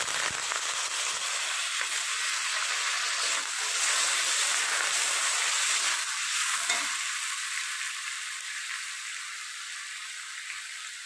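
Potatoes frying in hot oil in a home kitchen, a steady loud sizzle and hiss that runs without break and eases slightly toward the end.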